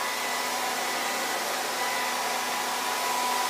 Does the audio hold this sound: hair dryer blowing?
yes